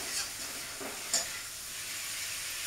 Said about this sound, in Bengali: তো আমার এখানে ছোলাটা কষানো কষিয়ে নেবো একটু ভালো করে মশলার সাথে, মানে ভেজে নেবো আর কি।